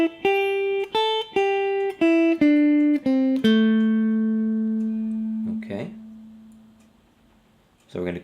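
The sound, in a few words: guitar playing blues solo phrase descending the scale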